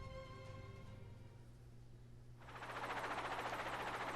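Helicopter in the video game Psycho-Pass: Mandatory Happiness, a low rotor drone under a fading musical tone that swells into a loud broadband roar of engine and blades in the second half.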